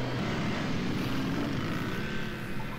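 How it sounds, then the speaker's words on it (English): A helicopter in a 1966 film gives a steady, loud rotor and engine drone that holds throughout without voices. "Yeah, it's a helicopter."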